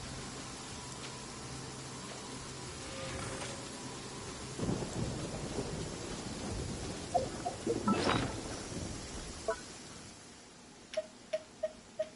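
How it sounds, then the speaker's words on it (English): Thunderstorm with steady rain in Genshin Impact, the downpour constant throughout, a low thunder rumble rolling in midway and a sharp crack near the end, with a few short clicking ticks at the close. "Thunder and lightning can be quite frightening"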